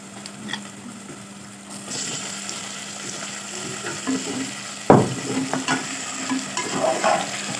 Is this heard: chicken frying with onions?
yes